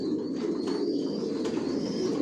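Racing pigeons coo in a loft, a steady low murmur of overlapping calls that fills the space continuously at moderate level with no voices.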